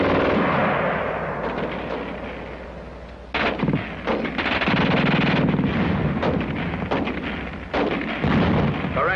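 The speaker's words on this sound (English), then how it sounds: "The German gun used to shoot fast." A German machine gun fires in sustained rapid bursts, loud and harsh, with heavy booming reports and battlefield rumble between volleys.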